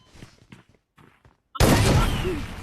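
Sudden burst of video game gunfire erupts after quiet speech-like murmurs, loud and sustained with dense crackling shots over a rumbling backdrop.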